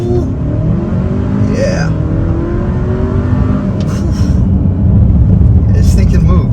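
A 2024 Hyundai Santa Cruz Night accelerating hard from a standstill, heard as a steady, loud engine drone that builds over several seconds, with a brief voice speaking over it.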